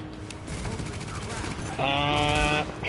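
Gunfire in the video game The Division, a dense, sustained rattle of rapid shots that stays loud throughout and swells further toward the end amid other layered game noise.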